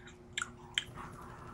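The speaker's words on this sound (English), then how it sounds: "Those are my dogs fighting." Dogs fighting and chewing in the background, a couple of brief crunchy bites and snaps over a steady low hum, faint and somewhat distant.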